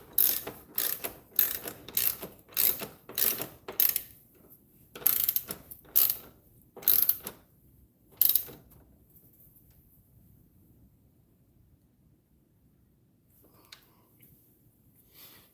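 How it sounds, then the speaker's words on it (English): A socket ratchet clicks in bursts as it turns through two 6-inch extensions during spark plug and valve cover work on a vehicle, about a dozen rapid close ratcheting runs followed by near silence and a faint click near the end. "I'm going to run two 6-inch extensions down so that I can turn the ratchet without striking the vehicle."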